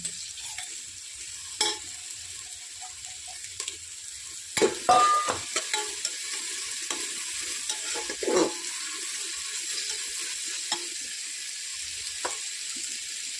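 Moth beans are tipped into a hot oiled pan for a pulao and stirred, a sizzle under irregular scraping and clattering spoon strokes, close up, with a louder burst of stirring partway through and no speech.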